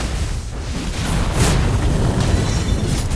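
A turret being destroyed in a League of Legends-style video game, heard as a dense, loud rumbling explosion that rolls on steadily for about three seconds with no voices over it.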